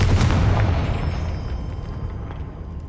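Confringo fire spell exploding in the video game Hogwarts Legacy, a loud deep boom that rolls and fades over a few seconds.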